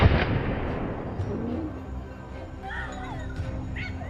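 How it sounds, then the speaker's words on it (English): A single loud gunshot aimed at wild boars on a rural Anatolian hillside cracks at the start and fades in a long echoing decay, followed by quiet outdoor air with birds chirping. "I carefully picked my first target and opened fire."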